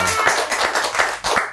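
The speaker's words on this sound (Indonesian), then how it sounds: "Tepuk tangan semuanya." An audience claps to welcome a guest onto a talk show, with loud, rhythmic hand claps pulsing steadily for a moment.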